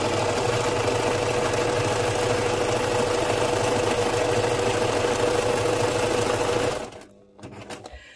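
Sewing machine running at a steady fast whir while stitching candy corn packaging onto a junk journal cover, continuous and close for nearly seven seconds before stopping abruptly, followed by faint handling sounds.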